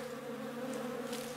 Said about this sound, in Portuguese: Aqui estão as abelhas, né?